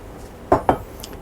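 A utensil knocks twice against a cooking pot while flour and chili powder coating is stirred into meat for Texas chili, two sharp close clinks in quick succession against a quiet background.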